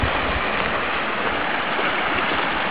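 Stream water flows among rocks beside a mountain lake, a steady broadband rushing and babbling that stays even and fairly close throughout, with no voices.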